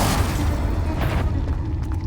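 A Confringo blasting spell explodes in Hogwarts Legacy, a loud, dense rumbling boom that fills the whole moment with a sustained low roar and a few brief crackling bursts near the end.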